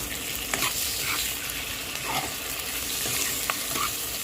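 Onions fry with chicken in a pan, giving a steady, moderate sizzle broken by occasional scrapes and clicks of stirring.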